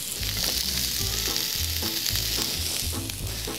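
Eggplants and other vegetables fry in just a little oil in a pan, giving a steady close sizzle with scraping stirs and a few clinks throughout, with no talking.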